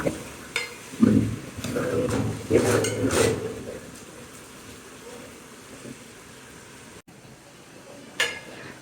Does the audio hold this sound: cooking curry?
yes